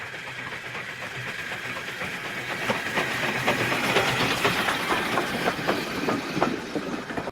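Steam locomotive 45596 Bahamas rolls past on the Great Central Railway with rhythmic clickety-clack over the rails and engine chuffing, growing louder toward the middle and staying close.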